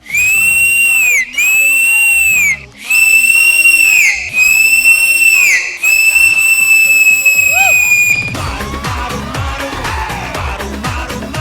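Audience whistling at a televised dance show where choreographers perform on stage: several long, loud, shrill whistles in quick succession, then a busy crowd din with cheering.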